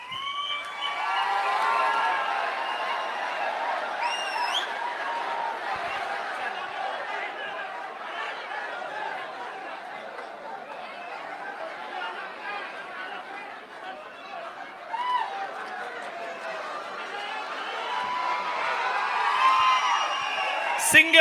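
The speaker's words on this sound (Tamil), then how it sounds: "அரங்கம் நிறைந்த கைத்தட்டல்" A packed hall audience at a Tamil public gathering claps and cheers steadily, with whoops, chatter and scattered laughter mixed in, swelling louder toward the end.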